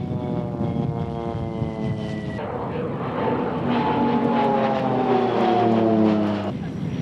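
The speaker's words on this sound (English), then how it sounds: "Pilatus always make robust, well-engineered planes, and the PC7 is no exception." Pilatus PC-7 aerobatic propeller plane flying at the Mildenhall air fete, a loud sustained engine drone with harmonic tones that shift pitch midway as the aircraft passes, continuous and fairly close throughout.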